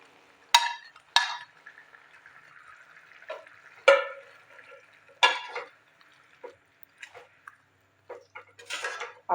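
Fried ridge gourd gets stirred into spices in a pan, with a spatula scraping and clinking against the metal in irregular strokes. Quiet sizzling runs underneath, close and fairly faint.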